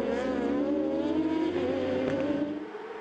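Superbike racing motorcycles at the Zolder circuit roar past, a loud high-pitched engine wail with shifting pitch as the bikes pass, then fading slightly near the end.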